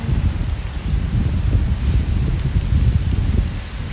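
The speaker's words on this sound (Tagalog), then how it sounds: "Ang sarap ng hangin." Wind gusting steadily outdoors behind a hotel on an evening walk home, a continuous low buffeting rush with rustling and microphone rumble, close and fairly loud with no talking.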